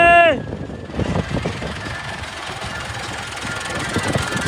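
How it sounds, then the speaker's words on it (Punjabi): A steady, rumbling tractor engine runs close by throughout on a farm during ploughing, with a rough knocking texture, after a brief tonal sound at the very start. "ਟਰੈਕਟਰ ਹਜੇ ਆਉਂਦਾ ਪਿਆ।"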